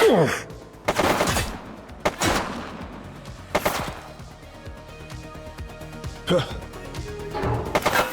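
A suspect firing a gun in an 1980s crime-city police game, with several loud sharp shots spaced apart over busy game noise, some echoing and thudding.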